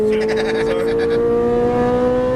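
A Ferrari 458 Italia engine accelerating on a track, a loud, close, steady high-pitched wail with rising harmonic tones and a busy rasping texture through the first second.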